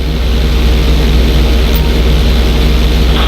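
Steady loud airplane propeller engine drone from GTA 5 during a barrel roll, a continuous low throbbing hum with airy roar on top, constant and close throughout.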